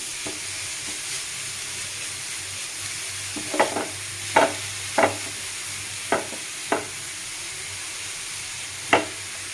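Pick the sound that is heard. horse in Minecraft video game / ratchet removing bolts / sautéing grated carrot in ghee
sautéing grated carrot in ghee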